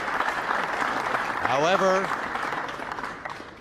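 Applause from spectators at the 2014 World Cup of Pool, Holland versus Sweden, after a shot: moderate clapping runs throughout while a commentator speaks over it.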